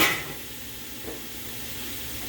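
Onions sauté in a pan for caponata with a steady soft sizzle and hiss. A brief louder burst comes at the start.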